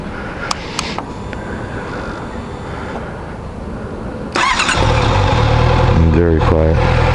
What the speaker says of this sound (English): We'll do a startup on it as well,